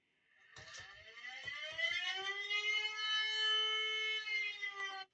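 A wailer siren on a Ghostbusters Ecto-1 replica car rises in pitch and holds a long, steady, clear wail with several switch clicks at the start, then cuts off abruptly at the end.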